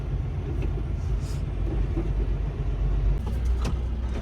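A truck pulling onto a freeway gives a steady, loud low-pitched engine rumble and road drone that holds throughout, with faint higher rattles.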